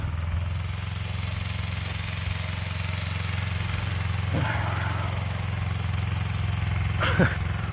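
Tractor engine running while hoeing a potato plot, a steady low droning hum held throughout at moderate level, with a couple of brief higher-pitched squeaks or voice sounds over it.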